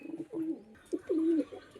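Kalshira pigeons in a loft coo softly nearby, giving several short throaty bursts and one longer rolling coo, with no other sound around them.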